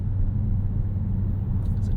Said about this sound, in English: the loudest part of this car on the highway is the tires. The tires are a little bit howly.